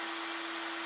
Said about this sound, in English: I've got my air going into the chamber, the reaction chamber